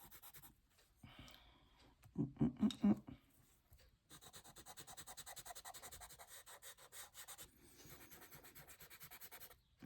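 Dry pastel colours rubbed and blended on paper for a portrait, soft scratchy rubbing strokes in bursts, close and fairly quiet, with pauses between passes.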